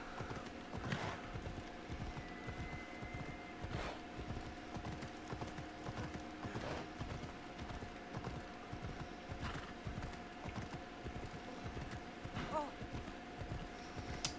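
Hooves clip-clop steadily from a flaming horse galloping in the Assassin's Creed video game, a rhythmic run of hoofbeats with an occasional whinny, layered over game music and ambient sound with a voice talking over it.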